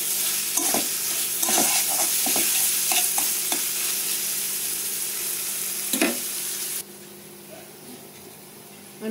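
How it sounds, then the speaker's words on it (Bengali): Loitta dried fish and spices cook in an oiled pan with a continuous sizzling hiss. Scattered scraping stirs stand out, the frying drops a little quieter near the end, and there is no speech. "শুটকিটা দিয়ে আবার কষাবো"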